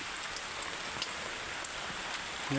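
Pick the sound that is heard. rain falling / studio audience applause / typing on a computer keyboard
rain falling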